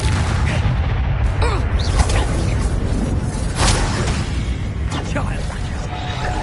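Confringo fire-blast spells explode amid a hectic Hogwarts Legacy duel: repeated booming bursts, whooshes and crashes pile up over several seconds, loud and close, with voices mixed in.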